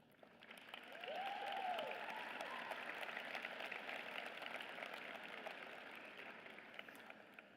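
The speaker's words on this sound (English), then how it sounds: "Graduates, let's take a moment, a loud, grateful moment, to applaud the people who stood by your side" Graduates at a college commencement ceremony applaud, a distant, faint wash of crowd clapping that swells after a second and holds steady, with a brief whoop early on.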